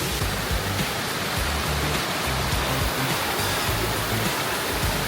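A forest waterfall at Mae Kampong roars in a steady, dense rush of falling water, loud and continuous, with no voices over it.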